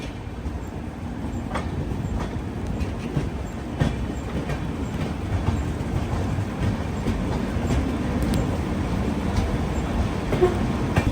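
Navajeevan Express running from Chennai Central toward Ahmedabad, a steady loud rumble of a moving train on rails with faint rhythmic clicks of wheels over rail joints throughout.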